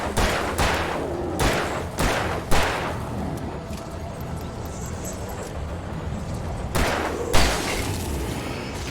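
Shotgun blasts in the Alan Wake game boom out loudly, about seven heavy shots spaced irregularly over a rumbling backdrop of combat, with no talking.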